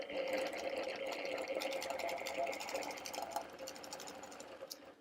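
A quilting sewing machine hums steadily while it stitches along the seam line of a quilt border. The whirring stays continuous and moderately loud throughout.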